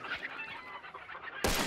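Chickens cluck in a video game, a busy layered run of bird-like clucks heard alone, ending in a sudden loud burst near the end.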